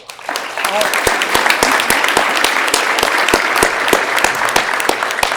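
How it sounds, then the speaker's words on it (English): A round of applause at a community action assembly, loud, dense clapping from a sizeable crowd sustained for several seconds with sharp claps standing out near the microphone. "Let's have a round of applause for"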